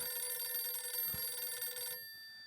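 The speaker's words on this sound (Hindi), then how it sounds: "अय्यर का फोन स्पीकर पे रखो।" A telephone rings in a scene from the sitcom Taarak Mehta Ka Ooltah Chashmah, a steady electronic trill at moderate level that stops abruptly after about two seconds, with no talk over it.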